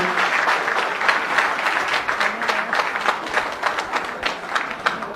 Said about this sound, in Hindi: मैं आपको कहना चाहूंगा तालियां बजती रहनी चाहिए